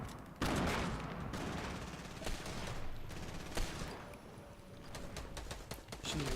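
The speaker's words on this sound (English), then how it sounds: "Where's this dude shooting from?" Gunfire in the Fortnite video game: rapid bursts of automatic shots and scattered single cracks over a steady game ambience, loud and continuous across the moment.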